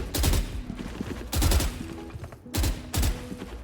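Rifles fire in the shooter game Valorant, three or four short bursts of sharp gunshots, each a few rounds long, loud and close with quiet gaps between and no voices.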